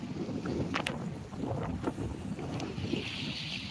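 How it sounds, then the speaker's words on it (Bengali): Steady wind rushes across the microphone beside a river current, a soft continuous blowing broken by a few light knocks and splashes. "অনেক বাতাস বইছে"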